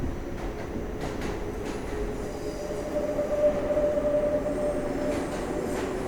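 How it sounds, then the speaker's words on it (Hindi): A train runs steadily along the rails with a continuous rolling rumble, while a thin metallic wheel squeal rises and fades midway as it crosses onto other tracks; no voices. "दौड़ती और पटरियां बदलती ट्रेन की आवाज़ सुनते हुए बाहर जाने कहाँ देखने लगे"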